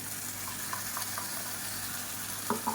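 Steady frying sizzle as tomato paste is added to a frying pan for tomato kurma, a low constant hiss with a couple of brief louder crackles near the end.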